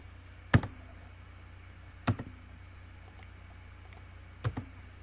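Keys tapped on a computer keyboard while entering a command in AutoCAD: three sharp, well-spaced clicks over a quiet background hiss.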